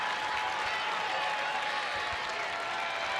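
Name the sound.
baseball stadium crowd cheering and applauding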